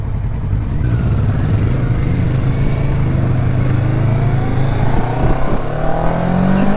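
A derestricted motorcycle, freed from its 34 hp A2 limit, accelerates hard on a light touch of the throttle, its engine a loud, continuous, rising roar close by for the whole stretch.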